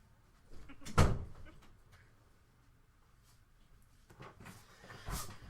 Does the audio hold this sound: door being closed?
yes